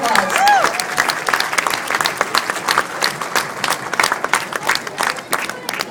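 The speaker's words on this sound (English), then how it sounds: "Let's give all these guys a nice round of applause." Audience applause at the Kern County Fair during a steer show, a dense, steady wash of clapping from a crowd that carries on through the whole stretch, with a voice briefly heard under it.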